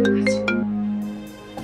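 A short electronic phone ringtone plays a few clear melodic tones, close and moderately loud, with no talk.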